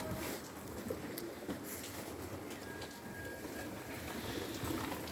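Soft cooing of pigeons under a dense wash of outdoor noise, the calls faint and blending into steady background rumble.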